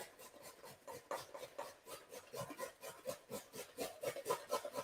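About 350 grams of carrots are rubbed by hand against a kitchen grater in rapid, rhythmic rasping strokes, close and fairly quiet, with no talking.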